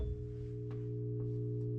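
An electrical transformer in a maple sugarbush, just energised by flipping a disconnect, gives off a steady low electrical hum with strong harmonics, close and constant, with a couple of faint knocks in the background.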